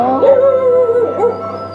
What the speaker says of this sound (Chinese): 小狗狗。